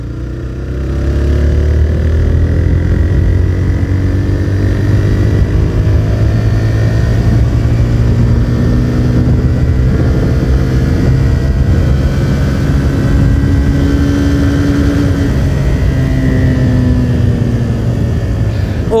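A TVS Raider 125 motorcycle in eco mode revs hard toward its RPM limit, its loud, sustained engine note climbing and holding close by throughout, with no talk.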